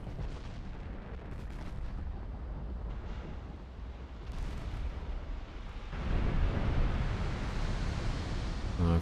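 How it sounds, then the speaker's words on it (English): Torpedoes launched from warships in the naval strategy game Ultimate Admiral Dreadnoughts, set in a 1960 Ottoman campaign in the Mediterranean: a continuous loud, rumbling, noisy wash that swells into a heavier roar partway through, with no talking. "Torpedoes away."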